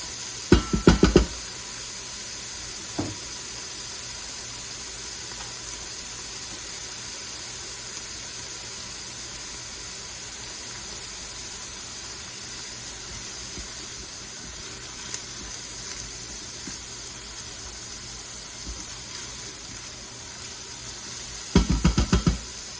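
Pork ragu ingredients sautéing in a pan, a soft, steady sizzle under a low background hum, with sharp utensil knocks against the pan near the start and a cluster of clanks at the end.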